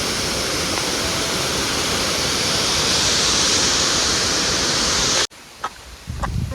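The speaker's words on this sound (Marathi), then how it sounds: "हा कातळधार धबधबा आणि तो समोर राजमची किल्ला आहे" A loud, continuous roar of the Kataldhar waterfall in the Sahyadri mountains, dense and steady, cutting off abruptly near the end to quieter faint sounds.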